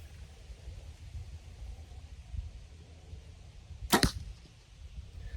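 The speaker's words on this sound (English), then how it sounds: "It's just the pitch of that twang when the bow is shot." A compound bow fires with a single sharp, loud string twang close by, cutting through a low steady rumble of background noise and dying away quickly.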